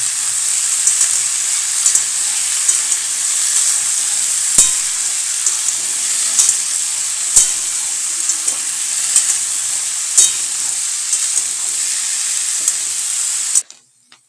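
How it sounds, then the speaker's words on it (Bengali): Cut potatoes frying in hot oil in a wok (kadai) for aloo dum, a steady, loud, close sizzle with faint stirring clicks throughout, cutting off abruptly at the end. "এরপর আমরা এটাকে ভালো করে ভেজে নেব।"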